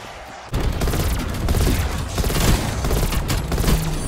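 Dense, loud gunfire in the Call of Duty Cold War game, bursting in after a brief quieter start and continuing as a sustained barrage of overlapping shots.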